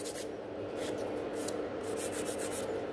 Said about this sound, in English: So I keep filing from underneath as well,